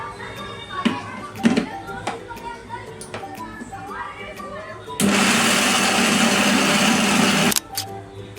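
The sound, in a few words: mixer grinder blending sugar, sago and milk powder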